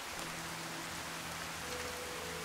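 Loud, steady rainfall in the video game Fallout: Tale of Two Wastelands, a dense continuous hiss of drops on surfaces with a low hum beneath and no talking.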